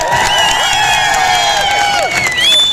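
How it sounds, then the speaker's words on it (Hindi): A crowd at a political rally in Doda cheers and whoops for the Punjab chief minister, with loud shouts and whistling over continuous clapping, close and energetic throughout. "उनके लिए भी जोरदार ताली बजा दें"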